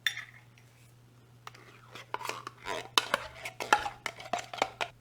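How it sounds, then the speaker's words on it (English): Cream of mushroom soup scooped from a can into a bowl for Salisbury steak gravy: a run of soft, close metallic scrapes and clinks from a spoon, growing more frequent toward the end over a faint steady hum. "So I'm just going to scoop out this cream of mushroom soup into my bowl."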